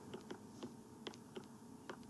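Keystrokes on a computer keyboard tapped in short irregular bursts of single clicks, faint and close, with no talking over them.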